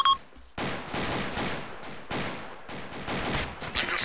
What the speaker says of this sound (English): Enemy fire. Under fire.